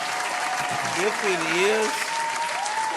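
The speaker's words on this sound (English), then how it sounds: "Clap it up for that." Live studio audience applauding at a podcast taping, broadband clapping sustained across the clip, with a voice talking over it.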